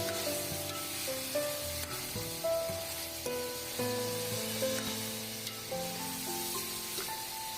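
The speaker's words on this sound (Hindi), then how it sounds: "प्याज को डाल देने के बाद हम तकरीबन 3 से 4 मिनट इसको फ्राई करेंगे ताकि प्याज भी सॉफ्ट हो जाए" Finely chopped onions fry in oil for a Lahori mutton karahi with a soft, continuous sizzle. Background music plays steadily over the sizzle, and no one speaks.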